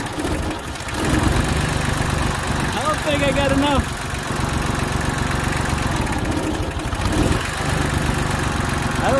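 A farm tractor engine runs steadily at close range through the whole stretch, a low continuous drone with talk heard over it, during work on a fence on hard ground.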